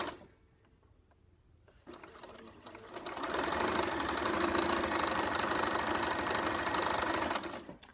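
After a quiet start and a few faint taps, a sewing machine whirs up and runs steadily at speed while stitching quilt block pieces, heard close and alone before slowing to a stop.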